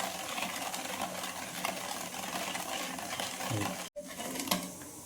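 Sugar being stirred into thick, dark yellow colostrum milk in a village kitchen, a steady scraping and swishing that runs close and continuous, with a brief gap near the end.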